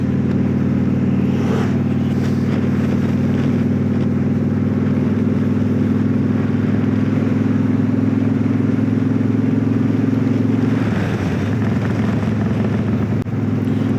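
A motorcycle cruising along a scenic road in Rhode Island, its engine a loud, steady drone with wind rush throughout, the pitch dipping briefly near the end as the throttle eases off.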